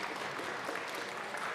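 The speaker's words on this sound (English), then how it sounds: "Please stand and give them a round of applause for their hard work" Applause fills a Colorado House of Representatives chamber during a legislative session, a brief, dense wash of clapping from many people at moderate volume.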